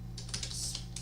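A computer keyboard is typed on in a short run of quick, soft key clicks against a low steady hum.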